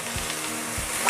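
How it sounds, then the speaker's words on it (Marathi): Colocasia leaf knots are stirred in a hot tempering in a pan, a brief close sizzle with a couple of scraping stirs. "हे आता गाठी आहे फोडणीत चांगले परत केले"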